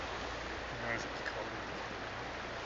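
A river flows over rocks close by, a steady broadband rush of water with no breaks, heard at night outdoors with a faint voice at times.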